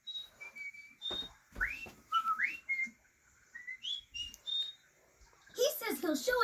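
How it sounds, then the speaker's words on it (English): A cartoon dog whistles a string of short melodic notes, sliding up and down in clear separate phrases, with a voice chattering briefly near the end. "The whistling dog's saying something."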